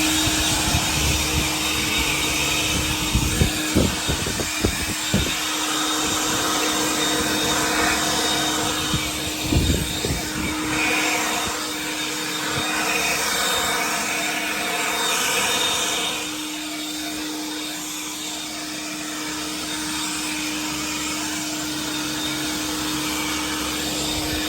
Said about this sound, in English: Let's see what the old leaf blower does.